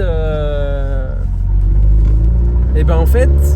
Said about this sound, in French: Même quand il accélère pas, et ben en fait,